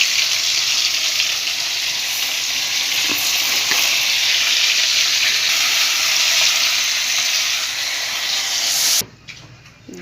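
Fish and potatoes frying in a pan give a steady, loud sizzle with bright hiss that holds for about nine seconds, then cuts off sharply into a quieter spitting crackle.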